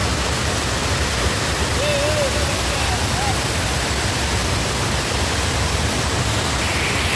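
A strong river current of rushing water roars steadily and loudly, a dense, unbroken wash of noise that fills the whole stretch.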